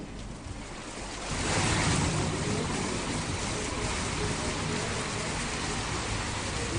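Steady rain falls in Haryana during the monsoon, a dense, continuous wash of noise that swells after the first second and then holds loud and even, with no voices.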